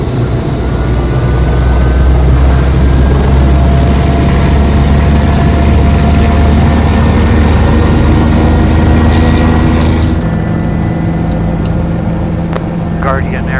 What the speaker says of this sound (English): Angel 6 helicopter midfield, will be departing to the east.